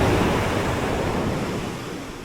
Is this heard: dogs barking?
no